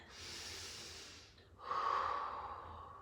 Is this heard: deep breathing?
yes